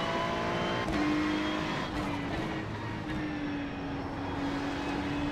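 Race cars roar off the start at Mugello in the iRacing sim, a loud layered engine drone with several cars revving and whining upward together, one rising tone standing out above the pack.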